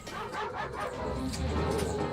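Dogs bark and yip in the Ratchet and Clank video game, a quick run of sharp barks and whimpers close by over a busy game background.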